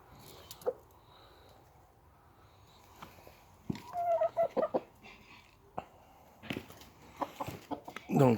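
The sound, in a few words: hens clucking at the chicken coop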